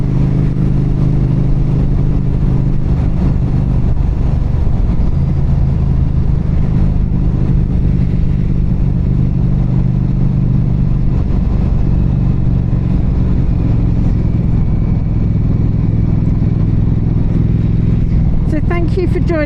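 Steady low engine drone from a 2023 Norton Commando 961 SP being ridden, a loud continuous rumble that holds throughout with wind noise and talk over it.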